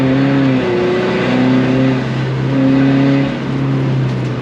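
A car engine revs hard and steadily while the car slides sideways with little grip, its rising and falling harmonic drone loud and continuous, close, with no talk over it.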